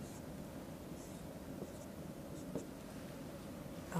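Pen or marker scratching out a quadratic equation on a writing surface, a faint continuous scratching with a few light taps, close and quiet with no talking.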